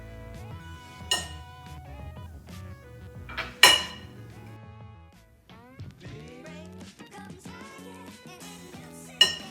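A utensil clinks and scrapes against a bowl while flour, cinnamon, ginger, salt, nutmeg and baking soda are mixed for carrot cake cookies. The clatters come in irregular, close, moderately soft strokes with a few sharper knocks.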